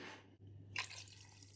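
Water poured into a cooking pot of mutton soup (mutton shorba) makes a faint, steady trickling splash, with a brief brighter splash partway through, over a low hum.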